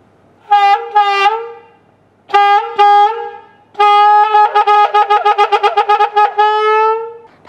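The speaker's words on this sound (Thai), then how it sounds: "จากนั้นนะครับเราก็ทดสอบดูก่อนว่ามันมีเสียงดังไหมลองเป่าดูนะครับ" Homemade can instrument with a balloon membrane blown into, giving loud buzzing horn-like tones, a few short blasts then a rapid fluttering series of pulses, close and alone.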